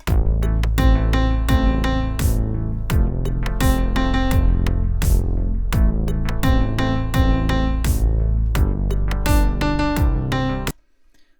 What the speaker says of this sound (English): Here's what the backing track sounds at the moment